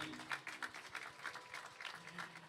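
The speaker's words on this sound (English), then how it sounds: "Let's give Dahlia a round of applause," Faint applause from an audience at a youth rally for an athletics meet winner, a soft, steady patter of many hands heard from a distance.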